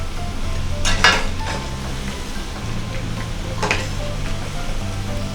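Cabbage pakoda frying in oil in a pan over a medium flame, a steady soft sizzle throughout with a couple of brief stirring or utensil scrapes near the start and middle, no voices.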